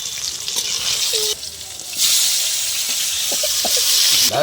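Chili, cardamom, bay leaf, cinnamon and chopped onion fry in a pan for a chicken curry, giving a loud, continuous hissing sizzle that swells midway, with a few faint clinks over it.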